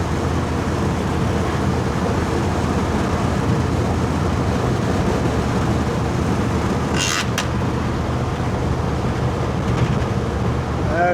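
A car engine fitted with a 650 CFM carburetor cruising at light throttle around 40 to 65 mph, a steady broadband drone and road roar held at an even loud level, with a brief higher whine near the end.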